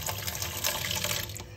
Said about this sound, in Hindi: तो फटाफट थोड़ा सा धो लेते हैं इसको,